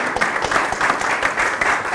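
Audience clapping at a political talk event in Montevideo, dense steady applause close by, filling the whole brief moment alone.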